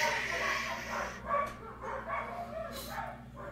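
Neighbor's dogs keep up a run of barks, yips and whines, several uneven bursts at moderate distance with faint room sound between them.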